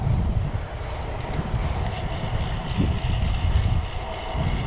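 Strong headwind buffets the microphone during a long solo bike ride near Burlington, a steady low roar with faint water and motion noise underneath and no voices.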